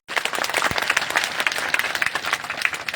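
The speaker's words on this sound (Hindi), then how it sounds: "इसके लिए ताली एक बार।" An audience at a meeting of BRMGSS office-bearers breaks into a short burst of dense, steady clapping that fills the whole moment, close and lively, with no voices over it.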